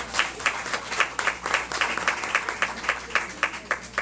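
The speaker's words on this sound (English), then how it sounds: "let's give her a great big round of applause" A room at a county board of education meeting applauds a track athlete, steady dense clapping from a crowd that stays even and fairly loud throughout without voices.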